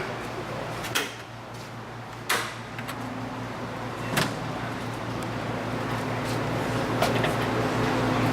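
Door of a Shermco Model 3 vending machine swung open, giving a few soft clunks and knocks spaced over several seconds against a quiet background hum.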